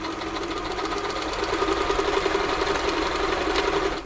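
A New Home L 312 sewing machine runs a straight stitch after servicing, a fast steady mechanical rattle and hum close by, continuous and slightly rising in intensity.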